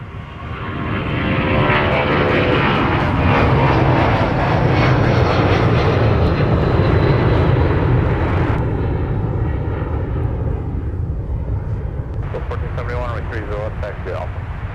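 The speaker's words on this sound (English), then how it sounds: "These engines produce a really nice buzzsaw sound." A Delta Boeing 757 with Pratt & Whitney engines roars loudly on takeoff, a dense, rasping buzzsaw drone that holds steady and then eases slightly as it climbs away, with radio chatter audible over it toward the end.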